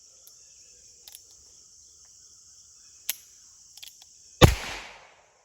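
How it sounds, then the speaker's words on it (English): A Federal bulk .22lr round fired from a revolver, one sharp close crack near the end, preceded by faint mechanical clicks of cocking and handling over a steady outdoor insect drone. "It did fire once I rotated the round and got a fresh spot."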